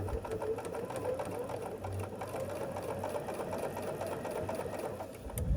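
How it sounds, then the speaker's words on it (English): Sewing machine stitching quilt block pieces together, a close, steady rapid whirring hum with a fast mechanical needle rhythm running continuously, then a small clunk as it stops. "and then we'll just sew these together"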